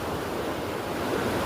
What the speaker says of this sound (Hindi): ये पानी का शब्द तो बहुत आ रहा है।